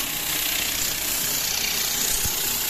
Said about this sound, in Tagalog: may pressure air na may kasamang chemical degreaser